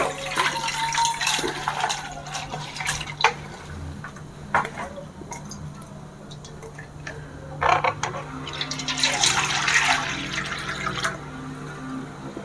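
Water and rinsed lentils (dal) for dal tadka are tipped into a pressure cooker, giving splashy pouring bursts in a few separate spells, with someone talking between them.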